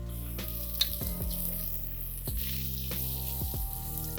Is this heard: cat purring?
no